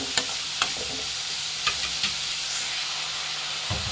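Onions fry in a hot pan for chitranna, a steady loud sizzle broken by a few sharp spatula scrapes and taps, with no voices.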